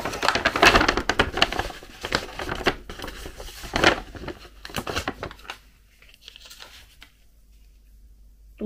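Crinkling and rustling of a plastic parcel mailer bag holding a cosmetics and shampoo order, handled up close in bursts for about seven seconds before going quiet.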